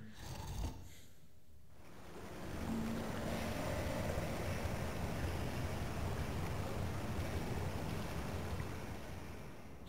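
After a lever is pulled in Tomb Raider III, water starts rushing in and settles into a steady, broad roar that keeps going evenly after a quieter opening moment.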